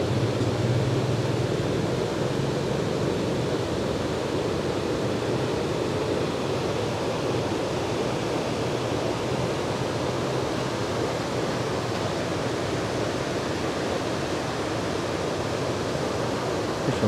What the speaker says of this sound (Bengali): তার সাথে নদীর জলের আওয়াজ।